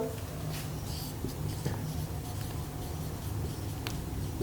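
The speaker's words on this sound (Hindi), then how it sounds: "फार्मूला में लिख लेता हूं" A pen scratches across paper while a chemistry formula for molar volume is written out in a class, producing faint, intermittent scribbling strokes over a steady background hum.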